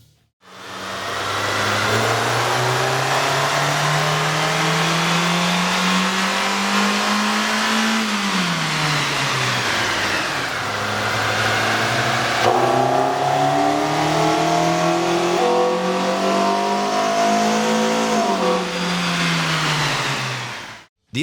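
A 2012–2013 Kia Soul 2.0L fitted with a K&N air intake revs on a dyno, its engine note loud and steady throughout, rising and falling in pitch through several throttle sweeps with no talking.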